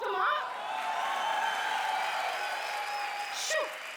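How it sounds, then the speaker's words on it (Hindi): A comedy show audience applauds and cheers, a steady wash of clapping with a few whoops. It holds at a moderate level throughout, and a brief voice cuts in near the end. "वो लोग मेरे लिए ताली बजा रहे हैं।"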